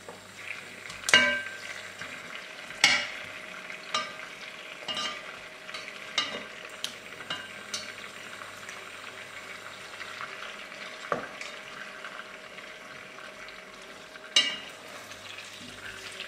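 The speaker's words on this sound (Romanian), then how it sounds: "Mai întoarceți din când în când bucățile de carne." Pieces of chicken fry in a pot for ostropel, a quiet continuous sizzle broken by occasional sharp clinks and scrapes as the meat is turned, close by and without talk.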